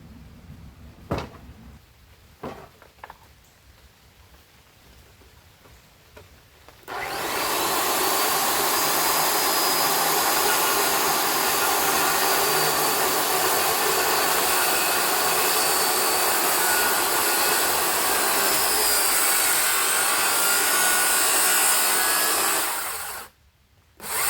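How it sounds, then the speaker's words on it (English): A circular saw plunge-cuts into a wood piece for a tree fort and zipline platform. A few faint knocks come first, then one long loud whine runs for about sixteen seconds and stops abruptly. "I've got to plunge cut this piece out right here."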